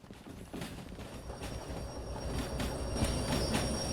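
Train braking in Derail Valley, a locomotive slowed with the independent brake during shunting, heard as steady rumbling rail noise with metallic brake squeal and faint clanks, growing slightly louder, with no talk.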